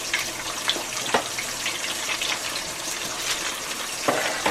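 Fries sizzle steadily in a cast iron pan, a continuous close crackling hiss with occasional sharper pops and faint clinks over the whole stretch.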